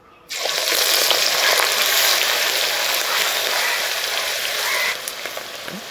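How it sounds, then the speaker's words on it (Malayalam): Anchovies hit a hot iron pan with a sudden burst of sizzling, then a loud, continuous frying hiss that eases slightly toward the end. "നമ്മുടെ നെത്തോലി കുറേശ്ശെയായിട്ട് ചേർത്തിട്ട് നമുക്കൊന്ന് വറുത്തെടുക്കാം."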